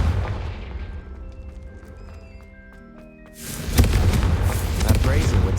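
The Confringo fire-blast spell from a Harry Potter video game goes off with a loud, broad burst of noise and rumble after a few seconds of quieter tonal game sounds, the blast continuing for about two seconds.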